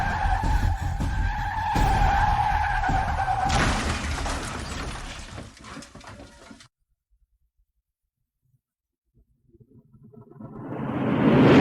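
A car skids loudly to a stop with a long tire screech and rumble, then falls silent before another vehicle sound swells up at the end.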